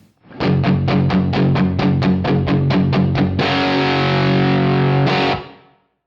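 Distorted electric guitar, set to an album tone, chugs about a dozen quick, even chords, then rings out on a sustained chord soaked in wet reverb. Loud, with no talking.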